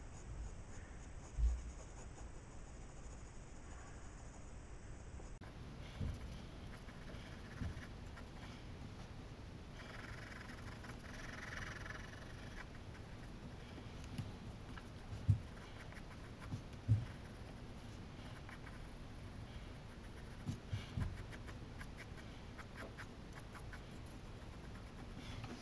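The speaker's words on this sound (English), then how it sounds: "next you're going to go back in with your pencil and add in all the detail into the tree" A sharp pencil draws fine detail lines for a tree on paper, making faint, soft, intermittent scratching strokes in a quiet room without speech.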